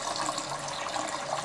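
Water pours steadily and continuously for brown rice cooked in a pressure cooker, a close, even rushing stream with no pauses and no talk.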